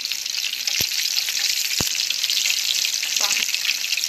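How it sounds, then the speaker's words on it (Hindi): Pizza sandwiches fry in hot oil with a steady, close, bright sizzle. A few sharp clicks come through, along with some bubbling crackle near the end. No one speaks. "ऑयल गर्म है तो मैं इसको ऑयल में ऐड करती हूँ"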